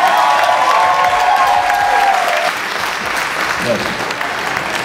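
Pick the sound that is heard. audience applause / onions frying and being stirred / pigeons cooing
audience applause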